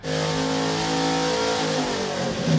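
A 590 hp LS V8 in a bodiless track car revs hard on a dyno, a loud steady roar with strong harmonics that rises in pitch near the end, close up with no talking.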